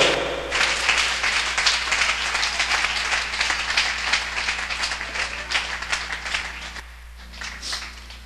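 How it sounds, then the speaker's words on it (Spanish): Church congregation applauding loudly during a sermon: dense, vigorous clapping from many people, sustained for several seconds and thinning out toward the end. "Aplauda fuerte al Dios de toda gloria."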